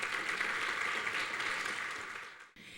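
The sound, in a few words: congregation applause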